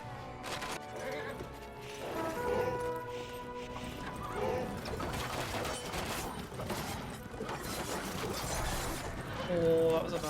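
Horse hooves clip-clop through a busy battle din in Age of Empires 2 Definitive Edition, with horse archers, occasional neighs and clashes, under steady game noise and some speech.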